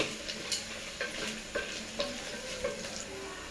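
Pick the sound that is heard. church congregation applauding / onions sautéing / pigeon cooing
onions sautéing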